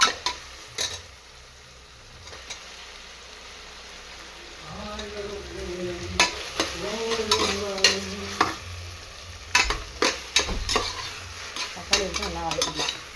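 Onion, ginger and garlic are sautéed in a pan for a mushroom biryani. A low sizzle swells as a spatula clacks and scrapes in brisk, uneven strokes, close by, with a voice faintly present at times.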